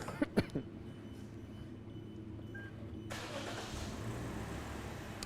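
A car engine cranks and fires up in a workshop, with a few sharp clicks at first, then a low idle that swells into a louder steady running hum partway through, heard at moderate distance with no talk.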